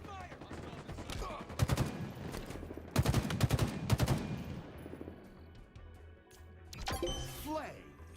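Bursts of automatic gunfire in a Halo capture-the-flag match, sharp volleys clustered around two stretches with near shots and echoing cracks, easing off into background game noise as a voice speaks briefly near the end.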